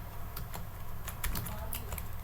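Quick bursts of keystrokes on a computer keyboard as a message is typed, close and fairly quiet, with uneven rhythm and short pauses over a steady low room hum.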